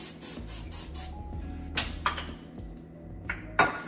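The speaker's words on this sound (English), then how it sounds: "spray your pots and your pans so your food not sticking to them" Several short hissing bursts of cooking spray onto pots and pans, each a quick broadband puff, spaced irregularly over a low background hum.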